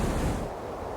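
Ocean surf roars in a dense, steady wash of noise in a music video, loud and close, with no voices.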